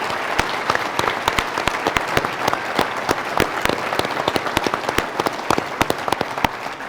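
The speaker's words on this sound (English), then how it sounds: "Please give the three mayors a round of applause." Steady, dense audience applause at a mayors forum, many hands clapping loudly and continuously with no voices over it.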